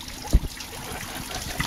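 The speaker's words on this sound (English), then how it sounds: "Just dripping off everywhere. It's just a big ice cube here." Meltwater from a melting Alaska glacier trickles and drips steadily, with one brief louder splash near the start, close and moderately loud, no voices.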